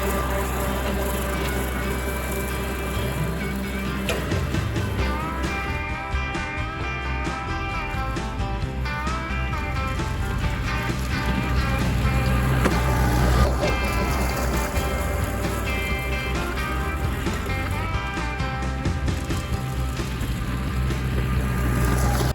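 Kubota L3901 tractor running a brush hog through a cover crop field, a steady loud engine drone with mower whir holding continuously throughout, close to the microphone with some wind noise.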